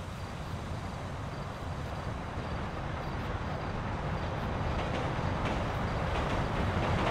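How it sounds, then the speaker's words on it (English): A train in the video game GTA V rumbles along steadily, with dense rolling noise and faint clicking of wheels, loud and continuous throughout. "Train's coming to a stop."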